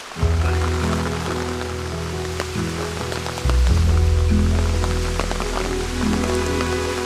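Rain falls over the mountains of Ninh Binh, Vietnam, as a steady, dense patter that never lets up, with a low droning hum running underneath the whole time and no voices.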